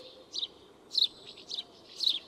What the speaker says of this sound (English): The most common one is a house sparrow, and it does a lot of chirping or chipping